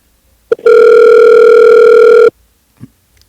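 A telephone line on a phone-in call gives a short beep, then a loud, steady tone lasting nearly two seconds before cutting off, followed by a faint click.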